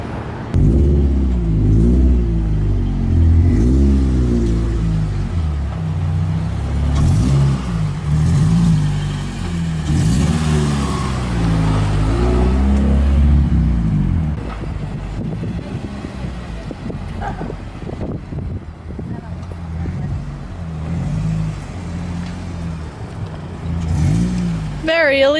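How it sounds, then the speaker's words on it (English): Cars drive past and accelerate, engines revving and rising in pitch over roughly the first fifteen seconds, loud and near, with people talking over the traffic before it thins out. "So many cars coming out there."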